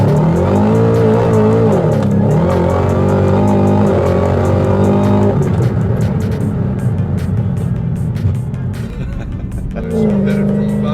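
A tuned car accelerates hard on a final test drive from a rolling start, its engine note climbing loudly through short gears with brief drops at each shift, close and dominant throughout.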